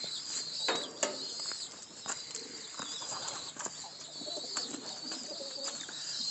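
Backyard pigeons, including young birds, coo continuously after feeding, a dense overlapping murmur of calls with occasional wing flaps and shuffles close by.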